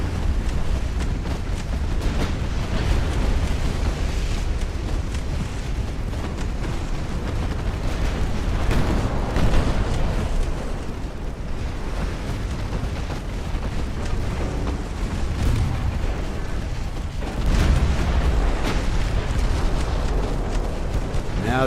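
Naval broadside gunfire from dreadnought-era warships in a battle game, a dense, continuous low roar of repeated booms and rumbling blasts that swells at times and carries on without a break.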